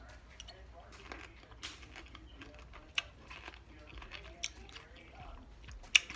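Someone chews crunchy homemade bread and butter pickles up close, with soft irregular crunches and a few sharper bites over a quiet background.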